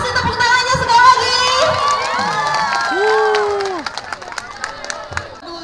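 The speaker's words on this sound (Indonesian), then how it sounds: "Kasih tepuk tangannya sekali lagi." At a junior high school scout camp for SMP 1 Banggai in Lambako, a crowd of children claps and cheers, with loud, bright shouts and whoops over scattered clapping that gradually quietens.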